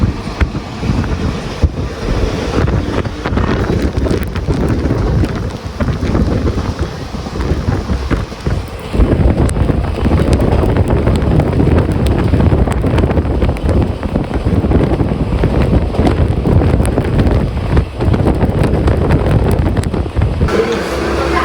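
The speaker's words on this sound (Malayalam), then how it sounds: "പിന്നെയും നല്ല മഴ വന്നേ, നല്ല മഴയാണ്." Heavy monsoon rain pours and splashes into a moving passenger train on the Nilambur line in Kerala, a loud continuous roar of water and wind with deep rumbling running throughout.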